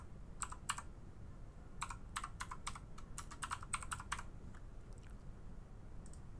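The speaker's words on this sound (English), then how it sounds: "So I'm going to type in the elegant slide." Quiet keys clatter on a computer keyboard as text is typed, in short irregular bursts of clicks over a low background hum, with no voices.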